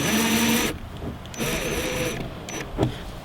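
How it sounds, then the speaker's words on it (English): A handheld drill spinning a 1/2 inch socket to drive bolts while fitting fender flares, in two short bursts of whirring with a pause between, close and fairly loud, with no talk. "Now take a 1/2 inch socket, put it in your drill, and just use that to put your bolts in."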